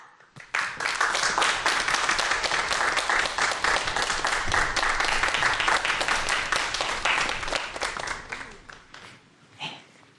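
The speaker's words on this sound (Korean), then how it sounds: "박수로 모시도록 하겠습니다" A studio audience at a science talk on fragrance bursts into loud, sustained applause, dense clapping lasting several seconds before tapering off to a few scattered claps.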